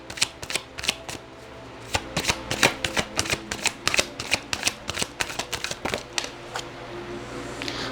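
Tarot cards being shuffled by hand, a rapid series of crisp riffling snaps and flutters, close and fairly loud, repeating in quick bursts with brief pauses between.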